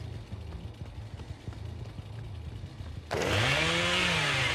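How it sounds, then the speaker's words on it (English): Bubba's chainsaw in a video game kicks on abruptly partway through, a loud buzzing motor roar with a rising pitch that takes over after quiet game ambience. "Going for the hook rescue, so I'm starting my chainsaw"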